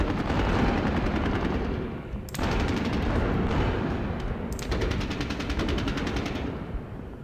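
Dense machine-gun fire and heavy gunshots rumble in the Advance of the Reich war game during a heavy-tank battle, a loud continuous barrage with rapid crackling bursts that restart twice, and no talking.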